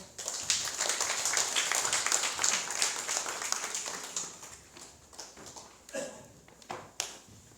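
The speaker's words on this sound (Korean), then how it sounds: "박수하겠습니다" A church congregation at a Sunday worship service breaks into applause, a busy patter of clapping that thins out after a few seconds into scattered, separate claps near the end.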